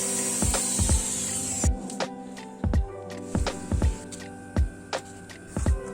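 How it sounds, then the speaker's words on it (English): A power drill driving screws to mount cleat hangers on a board for a DIY basketball hoop, heard as a run of short, sharp bursts spaced about half a second apart, fairly close, with no talking. "Drill."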